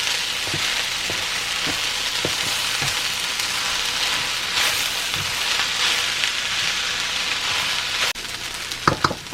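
Shrimp fried rice sizzles steadily in a hot pan while being stirred, the constant frying hiss broken by scraping knocks of the utensil against the pan, close and loud, with a sharper clatter near the end.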